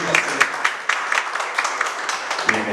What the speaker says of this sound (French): Je vous demande d'applaudir chaudement la vie de notre pasteur